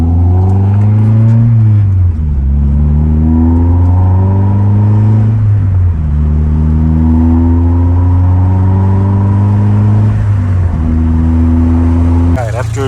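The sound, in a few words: Nissan 240SX car driving on the road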